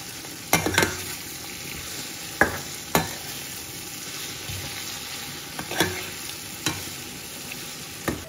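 Chopped onions, two medium ones salted, fry softly in a pan for a beef curry, a low steady sizzle broken by several sharp scrapes and clacks of stirring spaced through the stretch.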